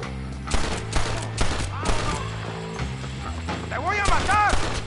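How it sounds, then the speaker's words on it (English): Loud bursts of gunfire in the Western video game Red Dead Redemption, rapid cracking shots with mechanical clatter and ringing tails, while characters' voices shout over the firefight. "We'll shoot our way in there."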